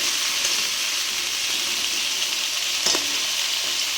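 Pointed gourd and potatoes sizzle steadily in hot oil in a pan for a parshe fish curry, a continuous bright hiss close up with occasional stirring clinks, with no talking.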